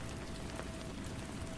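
Rain falls steadily as ambient background, a dense, even hiss of drops on surfaces with no pauses or voices.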